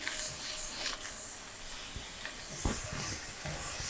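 Onion dry-sautéing in a hot oil-free pan gives a steady close hiss with scattered soft scraping knocks as it is stirred, moderately loud and continuous.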